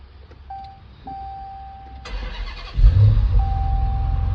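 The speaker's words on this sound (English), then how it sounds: "I'm gonna start the car." A Dodge Challenger turns over and fires up after a quiet stretch with a faint electric whine, the engine catching with a loud burst, then settling into a steady rumbling idle nearby.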